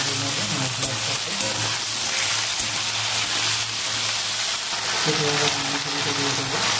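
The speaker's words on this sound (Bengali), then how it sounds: "আলুটা একটু নেড়ে নেবো মশলার সাথে।" Potatoes fry in mustard oil with spices, a continuous close sizzle broken by stirring scrapes, with faint background voices or hum underneath.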